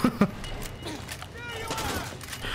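SMG gunfire in the Far Cry 6 video game: quick, close bursts at the start, then ongoing scattered fire and game noise with voices in the background.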